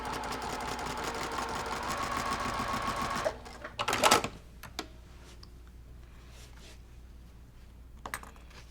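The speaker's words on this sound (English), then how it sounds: "I'm going to go back to my machine and stitch accurately" Sewing machine stitching a quilt block runs in a steady, loud mechanical whir for about three seconds, then stops, followed by a few clicks and handling noises against a quiet room.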